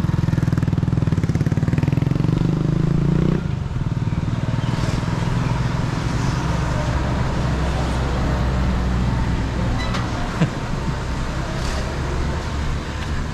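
A Honda Supremo motorcycle's engine runs steadily as the bike is moved a short distance near a grocery, with a loud low rumble that briefly revs and then settles, amid roadside traffic noise.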